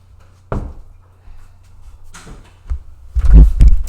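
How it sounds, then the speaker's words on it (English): A living room door is pushed shut in a quiet home, giving a near, dull thud followed by a few more soft knocks and bumps, with no talking. "do you want to shut the living room door?"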